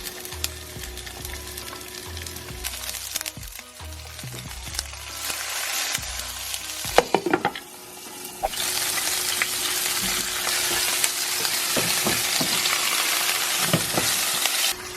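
Chicken and garlic frying in a pan, a close, loud sizzle that swells into a dense hissing roar midway, with scraping and clattering of stirring utensils, and low musical tones under the first half.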